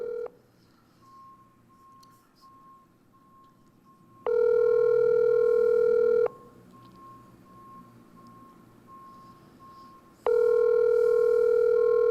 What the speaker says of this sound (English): I'm trying to call the NTA political leader, Gary Griffith.